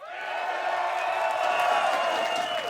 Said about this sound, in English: I heard the crowd for a little bit